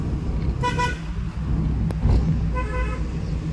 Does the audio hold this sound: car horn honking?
yes